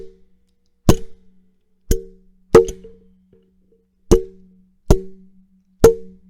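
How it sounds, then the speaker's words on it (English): Six sharp fly swatter smacks, sampled for a beat, land at uneven intervals, each a loud crack with a short low thud and quick decay, standing alone in silence. "but I have a fly swatter."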